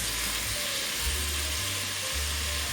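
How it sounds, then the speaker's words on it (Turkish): Onions sautéing in a pan for Turkish onion soup give a steady, dense sizzle with low crackling that carries on unbroken for the whole stretch, close and fairly loud, with no talk over it. "Biraz böyle kavrulsun, sote olsun"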